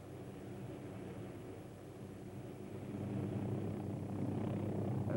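A Hughes OH-6 helicopter makes a maximum performance takeoff, its rotor and engine drone steady and distant, then swelling louder partway through.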